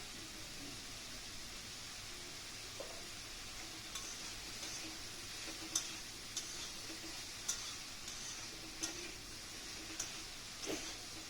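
Ridge gourd and mushrooms are stir-fried in a pan, giving a quiet, continuous sizzle with faint scraping and occasional light clicks from stirring.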